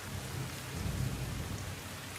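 Heavy downpour over Rajkot city, a dense steady roar of rain with a low rumble of thunder underneath, constant and close throughout with no voices.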